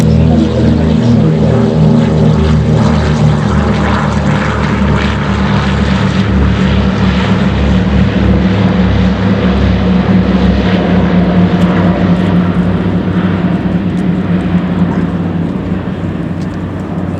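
Two Douglas C-47 propeller aircraft, one built in 1941, fly in formation at the Duxford air show, a loud, continuous, throbbing piston-engine drone that holds steady throughout with no voices heard.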